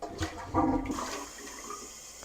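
After plunging, water rushes and gurgles down a toilet drain in a loud surge, then settles into a softer swirling drain that fades away.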